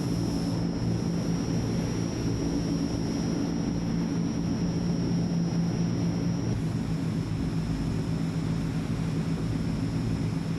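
A Transall C160 turboprop transport roars low overhead during a low pass in a flight simulator, a loud steady engine drone with a constant high whine and no voices.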